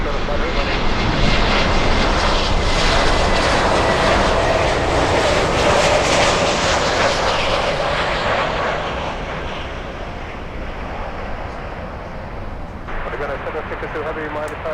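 Jet airliner roaring loudly at Miami International Airport, a broad sustained rumble that slowly fades over the final seconds, with talk and tower radio chatter running underneath.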